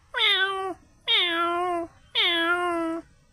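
A man imitates a cat with three drawn-out, nasal meows, each about three-quarters of a second long and separated by short pauses, close and fairly loud with no speech.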